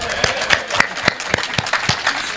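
A crowd at a Hindi comic poetry gathering (kavi sammelan) breaks into applause. The clapping is loud and close, with sharp, fairly regular claps standing out over a constant wash of crowd noise. No one speaks.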